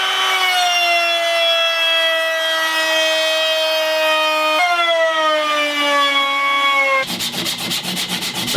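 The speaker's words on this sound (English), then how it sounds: "While I've got the router out, I'm just going to round over some of these other edges" A router rounds over the wooden edges of a cedar strip canoe part with a loud, steady, high whine that dips slightly in pitch midway, then gives way to a rough, rapidly pulsing buzz.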